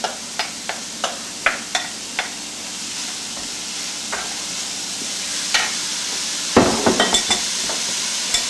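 Spinach and pickled jalapenos saute in a pan, a soft steady sizzle broken by regular clacks of a utensil stirring against the pan, with a louder burst of scraping and clatter near the end.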